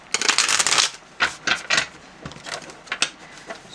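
Morgan Greer tarot cards being shuffled by hand, with crisp riffling bursts and flutters followed by shorter snaps and taps as the deck is bent and handled, close up.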